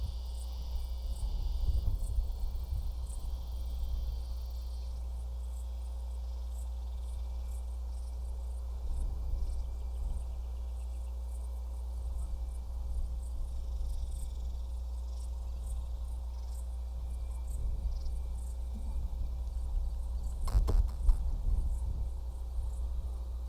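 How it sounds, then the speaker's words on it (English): Cicadas on a summer evening give a faint, steady, high-pitched pulsing chirr, distant and quiet over a low background hum, with no one speaking. "Oh, and the cicadas are out."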